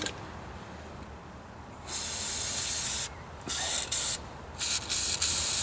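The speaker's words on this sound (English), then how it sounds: "I'm just going to give this a good spray too with everything." An aerosol can hisses in a long spray onto the underside of a 110 TLB (tractor loader backhoe), lasting about a second, followed by several shorter bursts of spraying, close and loud.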